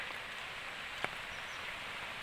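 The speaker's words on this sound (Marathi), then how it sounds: "मुसळधार पाऊस आहे आणि या पावसामधून जातो आहे" Heavy monsoon rain in the Konkan region, a steady, even wash of hiss throughout with one brief sharp tap near the middle, fairly faint and unbroken, with no voices.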